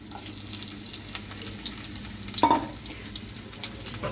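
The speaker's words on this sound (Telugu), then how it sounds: "పచ్చిదనం అంతా పోయినాక మంచిగా వేయించుకోవాలి కొబ్బరిని" Coconut frying with dried red chilli, green chilli and curry leaves in a pan, a steady soft sizzle with one sharper stir or scrape near the middle, no voices.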